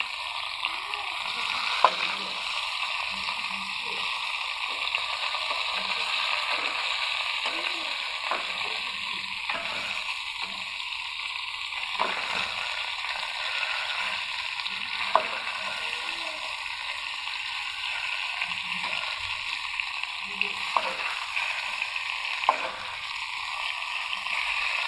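Pieces of rohu fish fry in a pan of oil, a constant soft sizzle with scattered light pops and occasional utensil clicks, fairly quiet and even throughout.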